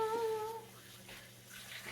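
Extra cooking liquid poured off from a pot of cooked black beans, a soft, quiet watery trickle that runs steadily through the moment with no voices.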